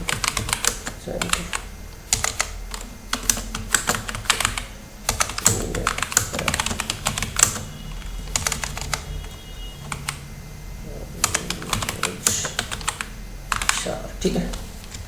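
Rapid keystrokes on a computer keyboard while typing text into a Notepad file, close and fairly loud, in bursts separated by brief pauses across the whole stretch.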